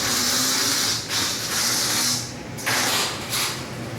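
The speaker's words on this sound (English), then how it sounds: "He's mowing back there. He's weed eating." Weed eater running outdoors behind the house, a steady broadband whine that surges and dips in level, heard from a moderate distance and continuing throughout without talk.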